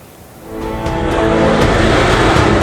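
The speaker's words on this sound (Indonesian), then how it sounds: "mobil pengangkut logistik terhambat saat membawa kotak suara ke Desa Waipaar" A logistics truck carrying ballot boxes on a rough rural road in East Nusa Tenggara, engine roaring louder as it strains, with a dense, gritty rumble building over a few seconds.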